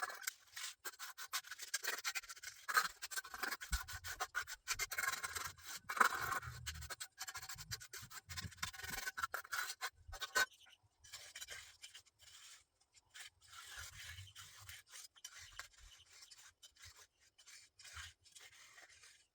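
A steel trowel smooths a wet concrete base poured for setting an old marble headstone, a steady close scraping rub that runs in sweeping strokes, busier in the first half and lighter and sparser afterward.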